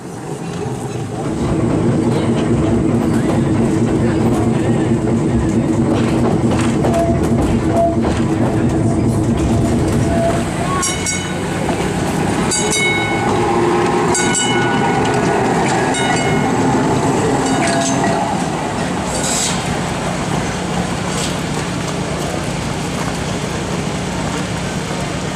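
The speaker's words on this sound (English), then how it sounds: "We leave South 40 on Italian Streetcar 1945 as we return to the main depot one last time." A 1945 Italian streetcar rolling along rails at the Old Threshers show in Mount Pleasant, Iowa, with a continuous loud rumble, rhythmic wheel clatter and occasional squeals and clicks for the full length.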